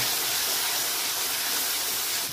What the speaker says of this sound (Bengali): ভালো করে মশলাটা কষিয়ে নিচ্ছি, মশলা থেকে আমার তেল ছেড়ে গেছে